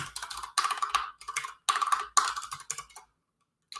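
Rapid clattering keystrokes on a computer keyboard come in several close bursts of typing, sharp and near, ending in a short silence.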